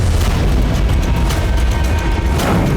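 A deep, rumbling boom rolls on continuously, with heavy low-end roar and scattered crackling bursts on top, loud and sustained.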